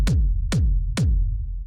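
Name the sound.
kick drum in a rave techno track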